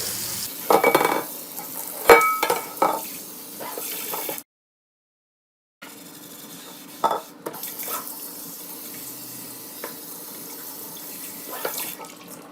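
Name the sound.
rinsing and scrubbing a greasy pan under water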